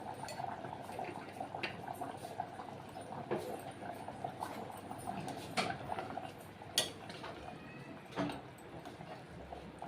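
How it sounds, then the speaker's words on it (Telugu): Paya curry of goat trotters bubbles in a pot, a faint, steady simmer with soft pops and occasional utensil clinks, no voices. "రెండు నిమిషాలు ఉడకనిద్దామండి."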